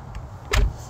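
A Toyota Camry car door shuts with a single solid thud near the middle, followed by a faint click of the handle being pulled, close up against a quiet background.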